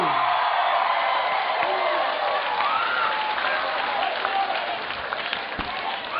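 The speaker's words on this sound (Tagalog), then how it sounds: "Yung palapak at sigawan." A studio audience claps and cheers, dense applause with a few whoops, steady throughout and easing slightly toward the end.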